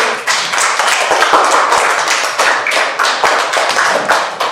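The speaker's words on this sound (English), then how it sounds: "Round of applause for everybody" A classroom of students claps for everyone after a math group activity, loud close rapid hand claps and taps forming a busy, slightly uneven rhythm.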